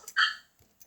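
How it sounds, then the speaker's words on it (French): A single short dog bark sounds close and clear, followed by a faint yip-like trace in a quiet room. "un chien qu'elle doit soigner en ce moment"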